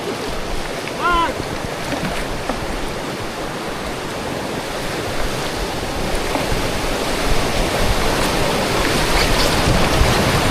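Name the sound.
jungle river waterfall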